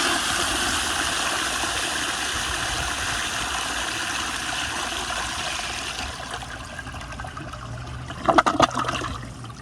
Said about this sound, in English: So this is it flushing straight down on full power.